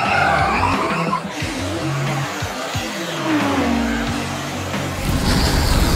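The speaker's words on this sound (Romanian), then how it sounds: "Ăla nu e motorul lui Tropical Heat?" Animated race car engine revving loudly with tires skidding and squealing in repeated sweeps, the engine rising and falling throughout with no talk over it.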